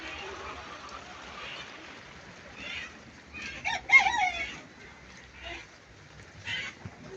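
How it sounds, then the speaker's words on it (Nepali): Chickens and a rooster at a local chicken farm give a few short clucks and a crow-like call partway through, faint against background noise, with voices briefly audible. "कुखुराको भाले"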